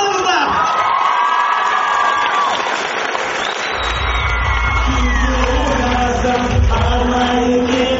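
A crowd cheers and applauds at a Taraz 2000 team performance, with loud sustained clapping, shouts and whoops filling the space, while an amplified voice rings out over the noise.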